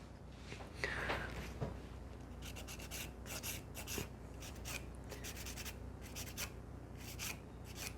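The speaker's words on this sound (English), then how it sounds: "File on the other sides." Nail file rubbing over sculpted builder fiber gel nails in a quiet series of short, repeated scratching strokes, soft and close, with brief pauses between bursts.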